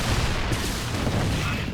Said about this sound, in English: As we see Nemo coming in, wants to engage, but runs into a bunch of tanks